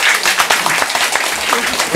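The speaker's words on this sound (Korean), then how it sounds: "박수 부탁드립니다." Audience applause fills a gathering of former Korean miners and nurses sent to Germany. The clapping is loud and dense, and a few sharper claps stand out near the end.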